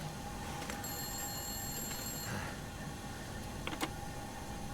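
A telephone rings in The Long Dark, a thin electronic trill repeating over a steady low hum of background noise, fairly quiet with no talking.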